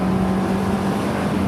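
A four-cylinder sports car engine with six gears, revving toward 9,000 rpm, holds a high, steady rev with a tonal drone, loud and unbroken throughout.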